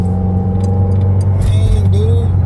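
A 2020 Subaru WRX fitted with a carbon fiber driveshaft, heard from inside while driving: a steady, loud low engine and road drone with a faint rising whine partway through.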